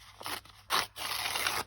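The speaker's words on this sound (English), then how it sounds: "I got my little old scallop scissors out" Scallop scissors cutting through paper packaging, several short crisp snipping and scraping strokes, close and quiet, with no voices.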